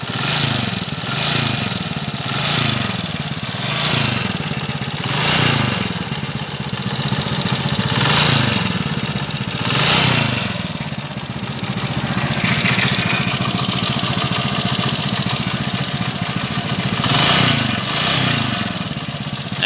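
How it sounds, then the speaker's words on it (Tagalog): A 1993 Honda TMX 155 motorcycle engine idles loudly and steadily with a rough, pulsing mechanical chatter, close and continuous with no talk over it. "Ayun po yung andar ng makina niya."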